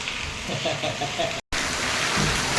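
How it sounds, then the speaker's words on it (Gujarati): Heavy rain pours down, a loud, dense, unbroken hiss of drops hitting surfaces nearby, cut by one brief gap of silence partway through before the downpour carries on just as strong. "તમે પણ જુઓ ફૂલ વરસાદ ચાલુ છે"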